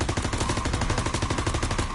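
MP40 submachine gun firing in WW2 Zombies, a loud, dense, continuous automatic burst with rapid, tightly spaced shots over a low rumble, heard up close.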